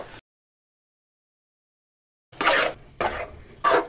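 Halwa with raisins and sugar stirred in a pan, giving short bursts of scraping and clatter, a brief one at the start, then three close, fairly loud stirring strokes after a long silence.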